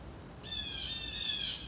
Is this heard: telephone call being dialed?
no